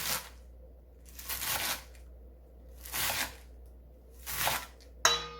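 A knife chops garlic chives on a board in a home kitchen during cucumber kimchi prep, coming in three or four short bursts of rapid crisp cuts with pauses between, then a sharp knock at the end.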